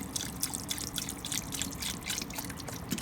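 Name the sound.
water being poured into a pot of tourtière meat filling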